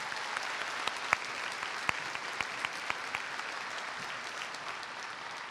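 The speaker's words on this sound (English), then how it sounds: "Please join me in a round of applause for our educators and staff members." Graduation audience at Mount Rainier High School gives a steady round of applause for educators and staff, a continuous, moderately loud wash of many hands with a few sharper claps standing out.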